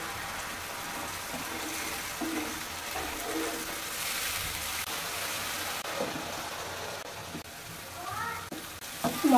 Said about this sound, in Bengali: এই মশলাটা আমি একটু তেলে ভেজে নিব